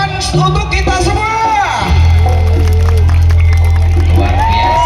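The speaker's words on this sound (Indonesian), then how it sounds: "Tepuk tangan untuk kita semua." Outdoor audience at a live sendratari dance-drama performance in Surodadi, Wonolelo, Magelang, cheering and shouting loudly over festive music, with a voice singing or calling over the crowd.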